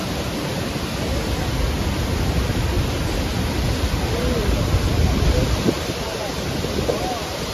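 Steady, loud broadband rush of a waterfall near Munnar in Kerala, heard close by and continuous, with faint scattered bird calls over it.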